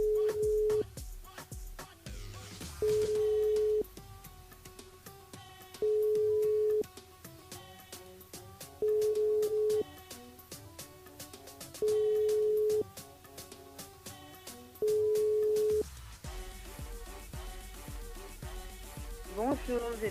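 A telephone ringback tone pulses six times at regular intervals while a radio host calls a listener for an on-air game, the repeated tones heard over background music and studio sound.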